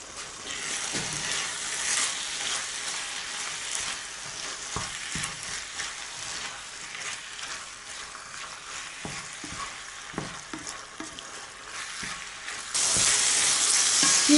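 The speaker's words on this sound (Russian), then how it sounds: "Печень минут 7 потушила" Liver stews and sizzles steadily in a hot pan for a bulgur dish, a continuous close frying hiss broken by occasional stirring clatter, growing louder near the end, with no voices.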